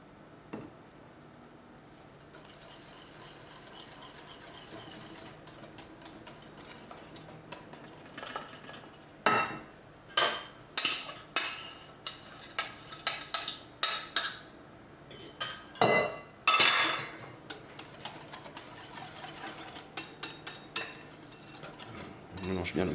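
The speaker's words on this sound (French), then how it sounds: "On mélange bien le tout." A spoon mixes cake batter with faisselle in a bowl for an exotic fruit cake. After a quiet start, it sets off a rapid run of close clinks and scraping stirs against the bowl.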